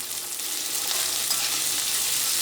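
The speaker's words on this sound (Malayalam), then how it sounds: "ഈ സവോള ഒന്ന് വഴറ്റിയെടുക്കുക." Sliced onion and green chili sauté in hot oil in a pan, giving a steady, close sizzle with a soft, even hiss and no talk.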